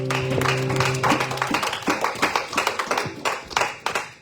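Congregation in a church clapping along and acclaiming the Lord, a brisk run of dense hand claps after a brief sustained tone, loud and close.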